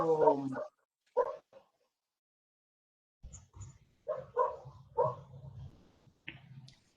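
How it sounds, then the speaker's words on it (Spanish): A dog barks repeatedly nearby during an online class. The barks and yips come in irregular bursts with short silent gaps between them. "sigue ladrando el perro"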